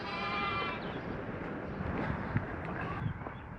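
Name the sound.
sheep bleating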